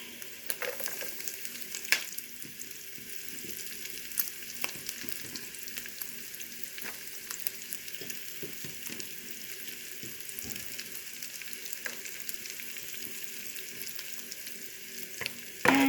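Garlic stirred and fried in a pan after fat has been rendered from meat, a steady dense sizzle with scattered scraping clicks of stirring throughout, close and continuous.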